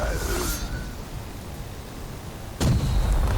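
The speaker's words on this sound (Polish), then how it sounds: "Bomby wybuchną." Bombs exploding in the video game Shadow of War: a rumbling explosion fades out at the start, a steady noisy hum follows, then a second sharp blast bursts in near the end.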